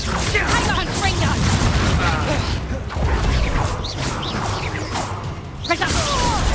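Confringo blasting-spell explosions from Hogwarts Legacy burst through a dense, loud game mix of whooshes, booms and crashing debris, recurring several times with magical swishes and a shouted voice over the top.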